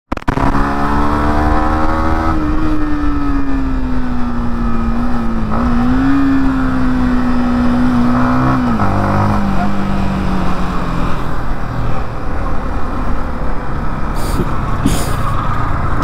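Yamaha MT-15 2.0 motorcycle engine hums at steady riding speed, its tone rising and dipping with throttle changes against continuous road and wind noise.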